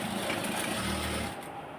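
A tailor's sewing machine stitches a pyjama seam in a fast, continuous whirring run that cuts off after about a second and a half, close and fairly loud.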